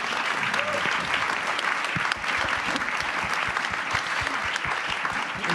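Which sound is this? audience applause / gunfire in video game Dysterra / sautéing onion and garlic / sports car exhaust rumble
audience applause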